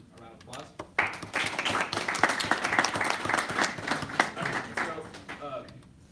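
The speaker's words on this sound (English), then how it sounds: "Can you give them a round of applause?" An audience at a student senate meeting gives a round of applause: a dense, even burst of clapping that holds for several seconds and tapers off, with voices briefly audible at the edges.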